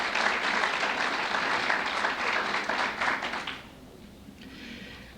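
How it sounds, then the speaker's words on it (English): A lecture audience gives a round of applause, dense even clapping for about three and a half seconds before it fades to a few scattered claps and quiet. "Please give that team a round of applause."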